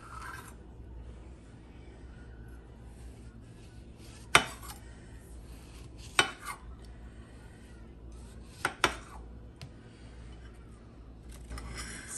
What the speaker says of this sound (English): Now it's time to cut up this orange.